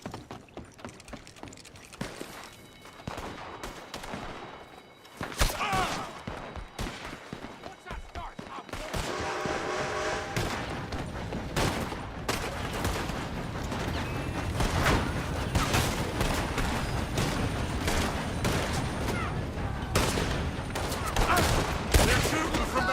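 Rapid bursts of gunfire in a video game's survival action, volleys crackling repeatedly over a dense, busy game soundtrack with clattering mechanisms, loud and sustained through most of the stretch.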